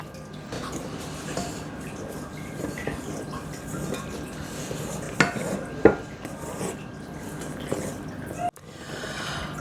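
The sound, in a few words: folding corn flour, vanilla and vinegar into meringue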